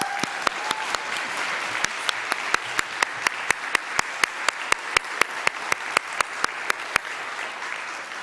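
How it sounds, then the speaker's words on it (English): A congregation applauds its teachers during a service: an even bed of audience clapping, with one pair of hands standing out in sharp, regular beats throughout. "Let's give them all a big round of applause."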